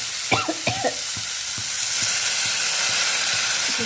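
Cowpeas cooking in a pan give a steady close sizzle and hiss, with a few stirring scrapes at the start and no talking.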